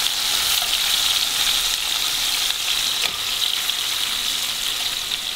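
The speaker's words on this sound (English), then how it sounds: "now I just use the tongue to flip the shrimp. I want to make sure they cook on both sides" Shrimp fry in a pan with a dense, steady hiss of sizzling oil, close and continuous, while tongs flip them, adding faint scraping and shifting sounds.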